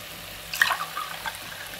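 About half a glass of water is poured into Andhra-style mutton curry in a pressure cooker, giving a short, soft splashing burst over quiet kitchen background.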